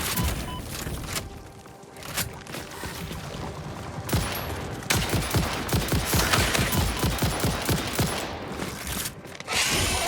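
Rapid rifle gunfire in the video game Satisfactory, aimed at a giant green spider creature; a dense, loud volley of sharp shots runs for several seconds over background game ambience and machinery hum.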